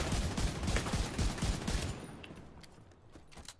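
Rapid bursts of video game gunfire, loud and close for about two seconds, then fading to a few scattered shots.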